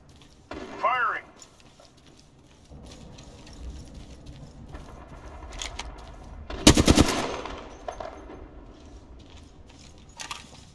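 Gunfire in the shooter video game Apex Legends, with a dense burst of rapid automatic shots near the middle amid game effects and a voice speaking.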